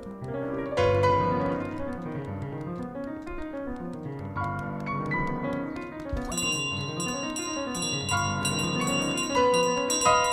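A handheld bell rings repeatedly in Untitled Goose Game, its bright metallic chimes layered over steady tinkling game music, sustained and fairly loud for the whole stretch.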